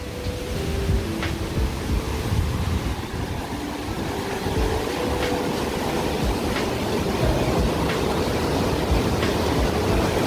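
Jaein Waterfall pours into a deep gorge pool among basalt columns, a steady, full roar of falling water that holds evenly throughout without any voices.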